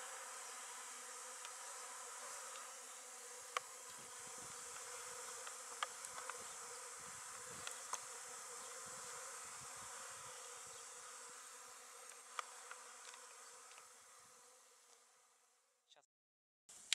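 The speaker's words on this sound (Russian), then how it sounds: "можем наблюдать, как пчелки активно берут себе эту пыль с кукурузной муки" Honeybees collecting dust from corn flour, a continuous close swarm hum with scattered louder buzzes of individual bees passing nearby, fading out toward the end.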